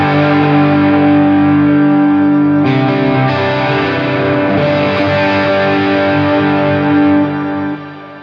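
Electric guitar runs through a Helix octoverb and a long quarter-note delay, giving sustained, thick, shimmering chords with smeared repeats, loud and continuous before easing off at the end, no voices.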